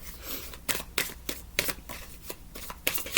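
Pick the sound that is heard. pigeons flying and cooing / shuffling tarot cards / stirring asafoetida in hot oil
shuffling tarot cards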